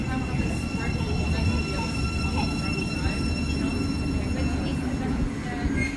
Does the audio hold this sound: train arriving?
yes